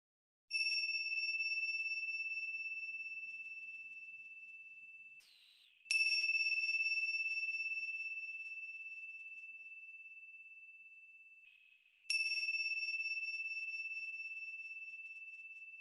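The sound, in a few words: meditation bells ringing and vibrating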